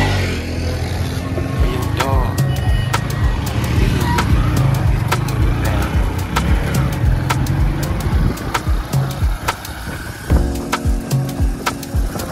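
A car driving through the streets of Lagos, Nigeria, with a steady loud road rumble and scattered clicks and knocks, while a pop song plays over it throughout.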